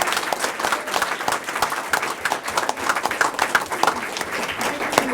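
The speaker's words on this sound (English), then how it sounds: "One another round of applause." Applause at a school board of education meeting, a moderately sized crowd clapping with distinct individual claps audible in an uneven, lively rhythm, with faint murmuring voices underneath.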